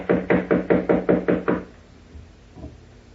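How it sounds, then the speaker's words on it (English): A rapid run of seven firm knocks on a bedroom door in a 1940s radio drama, loud and close in an even rhythm, followed by quiet with a faint trailing sound. "Knock again, please, will you?"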